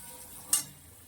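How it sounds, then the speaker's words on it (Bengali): Potatoes seasoned with salt and a pinch of sugar fry in a pan, with a low steady sizzle and one brief sharper crackle burst near the middle, heard alone. "আর এখানে আলুগুলো ভাজতে বসিয়ে দিয়েছি"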